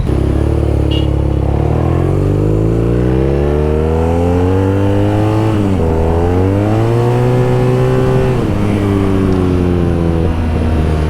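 A 2014 BMW R nineT motorcycle engine is held under throttle close to the microphone, its loud, steady drone climbing and dipping in pitch through several rises in revs, with no talk over it.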